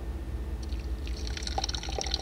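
Water is poured into a pot of oil-fried vermicelli, giving a soft splashing, bubbling trickle that starts partway in and continues close by over faint background noise.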